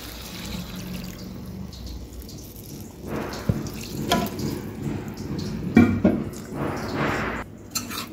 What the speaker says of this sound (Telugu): కొంచెం వాటర్ పోసుకోవాలండి